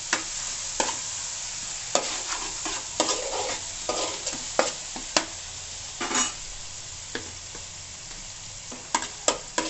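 Tomatoes for a Telangana-style fish curry sizzle steadily in a pan while a spoon stirs them with repeated scraping clicks, close and clear with no talking.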